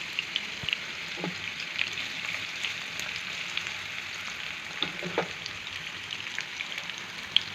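Small pieces of bitter gourd fry in oil in a pan with a steady, crackling sizzle. Occasional louder pops and spatters break through the hiss, which holds alone with no voices.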